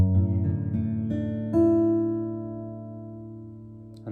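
An acoustic guitar rings out a D-shape chord with the open bottom string, several strums and plucked notes in the first second and a half, then one sustained chord decaying slowly, close and clear without speech.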